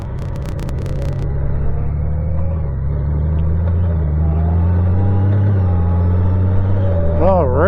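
Vehicle cruising on the road with a steady, loud low engine rumble inside the cab, pitch shifting slightly as speed changes, and a brief rising whine near the end.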